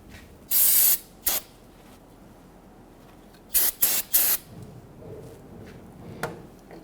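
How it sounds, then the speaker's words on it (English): An aerosol can of solvent sprays onto a brake hose fitting on a 2006-2010 Hummer H3 in close, sharp hissing bursts: one longer spray, a short puff, then three quick spurts in a row. "Spray this down with some solvent."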